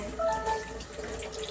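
Tap water runs briefly in a kitchen sink during home baking, a short steady splashing stream with a faint tonal whine, no speech.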